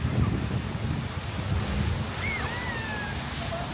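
Ocean waves wash onto a beach at Rayong or Koh Samet in Thailand, a steady broadband surf roar with wind buffeting the microphone and a brief faint whistle-like tone partway through.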